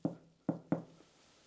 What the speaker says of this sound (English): Maybe you can make a knocking noise like this.